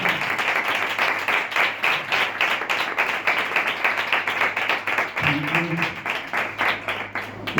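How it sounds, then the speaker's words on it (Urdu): Loud, steady clapping from a congregation at a Wednesday healing prayer meeting, dense rhythmic claps filling the space throughout, with a brief low tone or voice joining near the end. "آئیں اس کی اس پریزنس کے لیے ہم زوردار تالیاں بجائیں گے."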